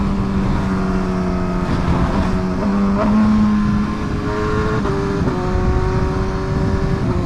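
A loud BMW HP4 motorcycle with an SC Project exhaust revs close by during a race, its pitch climbing and dropping through quick gear shifts in a continuous, aggressive roar.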